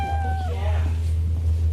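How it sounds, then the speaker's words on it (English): A cat meows once, a single drawn-out call that falls in pitch and fades, heard late at night over a steady low hum with no talking. "It's just a cat."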